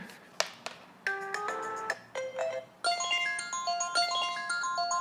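An iPhone 6S with water in its speaker plays a bright melodic ringtone, a series of tonal note patterns that sound thin and slightly distorted, close and fairly loud.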